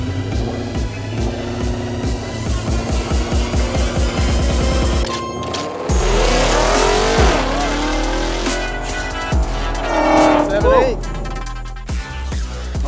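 A high-horsepower drag car launching hard down the strip with its transmission upgrades, tires squealing and engine roaring loudly for most of the run, with music or voices running underneath.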